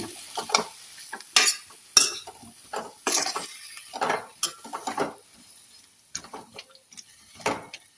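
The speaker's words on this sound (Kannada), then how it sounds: "ಇವಾಗ ನುಗ್ಗೆಕಾಯಿ ಬೇಯಿಸಿ ಇಟ್ಕೊಂಡಿದ್ದೇನೆ, ಹಾಕಿದ್ಮೇಲೆ ಒಂದು ಸಲ ಚೆನ್ನಾಗಿ ಮಿಕ್ಸ್ ಮಾಡಿ" Boiled drumsticks are stirred into softened onions in a pan with a spoon, giving a series of separate scraping, clattering strokes with faint sizzling between them, close and without talk.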